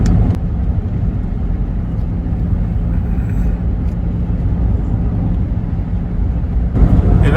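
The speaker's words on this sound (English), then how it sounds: "Driving into Cody this morning." Steady road and engine rumble from a car driving toward Cody near Yellowstone, a continuous low drone that holds at an even level and swells slightly toward the end.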